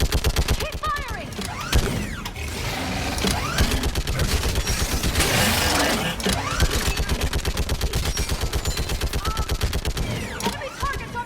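Video game Mass Effect 3 battle on Thessia, dense rapid automatic gunfire bursting almost continuously with heavier impacts and mechanical whines, a voice calling out briefly beneath the shooting.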